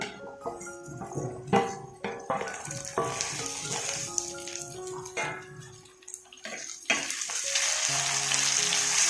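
Red and green chillies and chopped tomato fry in hot oil with a crackling sizzle, broken by stirring clatter, then settle into a loud, even hiss.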